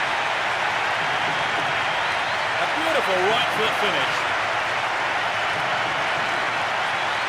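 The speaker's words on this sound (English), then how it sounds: "Capacity crowd during the goal celebration." A capacity stadium crowd in the PES 6 football game roars steadily in a loud, dense wash of cheering and applause after a goal, while a commentator speaks over it.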